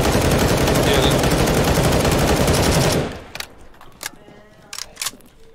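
Rapid automatic gunfire from CS:GO roars loud and dense for about three seconds, then cuts out, leaving a few sharp isolated shots and faint clicks scattered in a quieter stretch.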